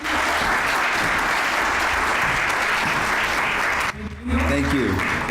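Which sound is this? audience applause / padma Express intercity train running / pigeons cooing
audience applause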